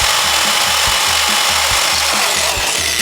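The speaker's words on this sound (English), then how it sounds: "let's see if we can just drill these all the way through to get a pilot hole all the way through." A power drill bores pilot holes through a minibike front fender and bracket, its motor whining loudly and steadily, with rhythmic thumps from the bit working through the metal, close up and with no talk.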